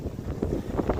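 Wind rushing over the microphone while sailing a catamaran at sea around Portland Bill, a steady low buffeting roar with a few louder gusts, no talking.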